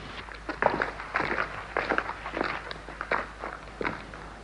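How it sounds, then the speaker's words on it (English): Footsteps crunching and scuffing on a hard stone surface, an uneven walking rhythm, close and fairly clear, with no talking. "The sound of my own footfall"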